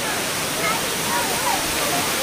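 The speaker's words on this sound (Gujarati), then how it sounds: "રસ્તા પર જ ધોધ છે" A waterfall right beside a road roars as a dense, steady wash of noise, loud and close, with a voice faintly talking under it.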